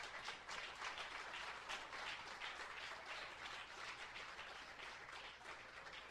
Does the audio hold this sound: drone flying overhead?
no